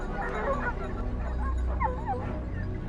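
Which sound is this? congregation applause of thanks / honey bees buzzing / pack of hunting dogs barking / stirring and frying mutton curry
pack of hunting dogs barking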